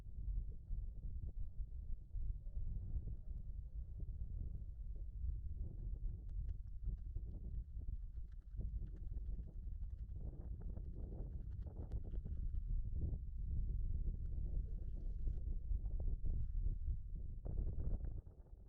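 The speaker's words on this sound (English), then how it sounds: "It was too windy to fly" Strong wind at the sandstone spires of Chimney Rock roars steadily across the microphone as a loud, continuous low rumble with gusty surges, with no voices.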